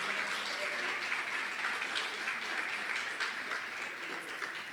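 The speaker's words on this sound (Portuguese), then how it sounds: "Uma salva de palmas para o Senhor." A church congregation applauds during a morning worship service, a soft, steady wash of clapping heard from some distance, continuous for about five seconds.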